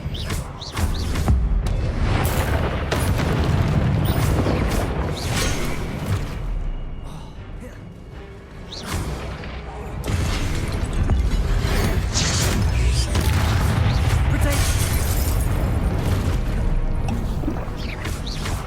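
Spell blasts and magical impacts from the game Hogwarts Legacy during a Parsifal Rackham trial, a dense, loud run of booms, crashes and whooshes with a brief lull midway, no voices.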